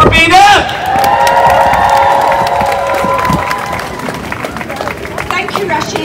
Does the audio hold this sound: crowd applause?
yes